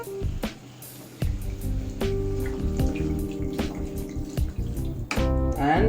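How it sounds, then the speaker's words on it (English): Water poured into a pan of tomato and cashew gravy, a steady splashing, trickling pour with clattering and bubbling close by, no talking. "I'm going to add in water now."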